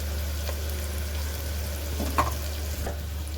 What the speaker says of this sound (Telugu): ఉల్లిగడ్డ వేగింది కదా